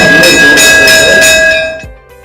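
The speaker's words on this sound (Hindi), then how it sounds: "बज गई घंटी।" A school bell in India rings as schools reopen, a loud electric ringing pulsing in rapid bursts for about a second and a half before cutting off abruptly.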